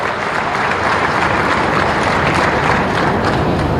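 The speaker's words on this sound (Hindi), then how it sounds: "जरा ताली बजाओ तो दिल से बजाओ, मन से ज्यादा जोर से बजाइए" A large summit audience applauds loudly and continuously, a dense steady roar of many clapping hands with no break.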